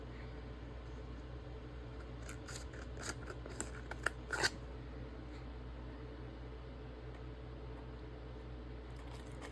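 Scissors cut out a piece of material for a mixed-media resin craft, a few quiet snips clustered mid-clip over a steady low hum, with no talking.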